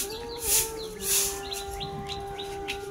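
Pigeons kept on a netted rooftop call softly in short, repeated chirps and coos, sitting close under a steady hum, with no one talking.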